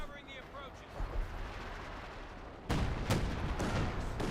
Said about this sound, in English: I am not sure that barrage is going